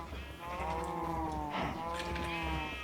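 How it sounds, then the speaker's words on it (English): A Minecraft cow lets out a long, drawn-out moo, then a second lower moo follows, both clear and close with little else around them. "And I also have gotten some cows."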